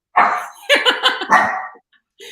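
A dog barks in a quick burst of several loud, close yaps with a short pause between groups, heard alone without any talking.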